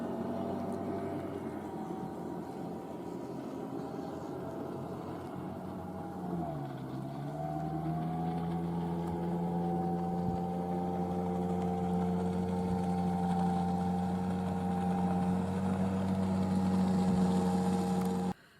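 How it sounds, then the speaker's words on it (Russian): A motorboat engine drones steadily, its pitch dipping briefly and then settling into a constant hum that grows slightly louder. "Лодка едет за мной."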